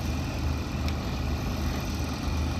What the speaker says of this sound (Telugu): ఇన్లాండ్ షిప్ అయితే వస్తుంది.